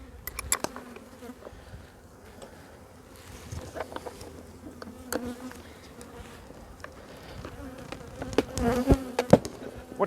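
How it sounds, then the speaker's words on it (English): Angry honeybees buzz close around a beekeeper's face during a hive inspection, a dense insect drone with sharp passes and louder bursts near the end. "I got bees buzzing my face here."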